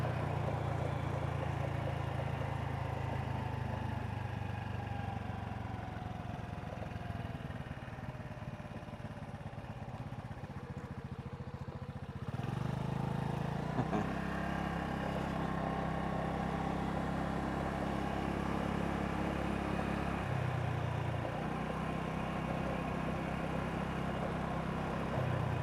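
Honda Navi motorcycle engine while riding through traffic toward Bellarmine University in Louisville, a steady low putter that drops off midway, then picks back up with shifting pitch as the bike moves on, fairly quiet and close.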